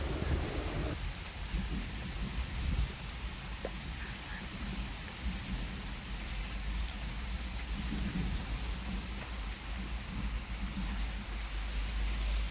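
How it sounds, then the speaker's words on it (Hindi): Heavy rain pours down steadily outdoors in India in the evening, a constant hiss of rain on surfaces that continues without break and sits at moderate volume. "और बारिश आ गई है थोड़ी तेज।"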